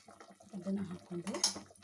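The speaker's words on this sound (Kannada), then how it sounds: "ಹುಣಸೆ ಹುಳಿ ಮಾಡಿಟ್ಕೊಂಡು ಅದು ನೀರನ್ನ ನಾನು ತೆಗೆದಿಟ್ಕೊಂಡಿದ್ದೀನಿ, ಅದನ್ನು ಇದಕ್ಕೆ ಹಾಕ್ತಾ ಇದ್ದೀನಿ" Tamarind water poured into a pot of simmering sambar, a short faint splash and trickle of liquid amid kitchen clatter.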